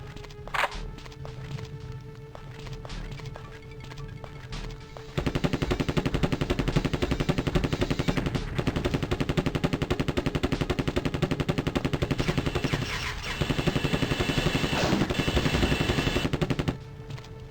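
M16 rifle fire in the Terminator Future Shock video game, first scattered single shots, then a long loud sustained automatic burst for about eleven seconds before stopping.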